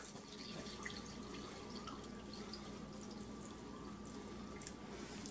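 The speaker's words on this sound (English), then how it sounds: "So I add 2 cups of the milk." Milk poured into a custard egg mixture makes a steady, close liquid trickle and splash with a faint drip texture, running continuously at low level with no talking.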